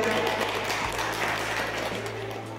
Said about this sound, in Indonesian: Beri tepuk tangannya yang meriah